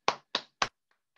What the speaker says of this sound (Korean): 박수 다 치셨죠?